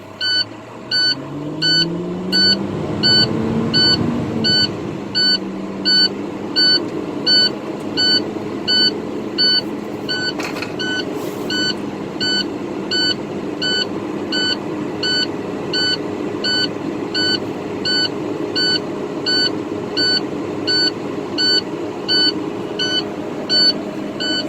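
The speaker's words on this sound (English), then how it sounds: "Start the truck back up." A truck engine idles up to about 1500 RPM to build air pressure, a steady mid-pitched rumble with a low rise early on, while a rapid, regular electronic beeping repeats over it throughout.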